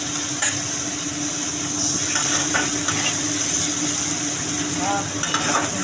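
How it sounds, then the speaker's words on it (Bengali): Onions frying with salt in a pan for a prawn-and-poppy-seed dish give off a steady, broad sizzle and hiss, with faint stirring scrapes now and then running throughout. "পেঁয়াজটা একটু লাল লাল করে ভেজে নিতে হবে।"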